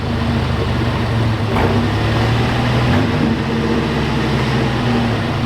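A 1987 Oldsmobile Cutlass engine, abandoned for a long time, runs loudly and steadily at a low idle rumble nearby, with a slight surge partway through and no voices.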